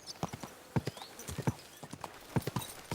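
Horse hooves clip-clopping in an uneven walking rhythm, close and fairly loud, with a brief whinny, in the video game Kingdom Come Deliverance II; a rider speaks softly at times.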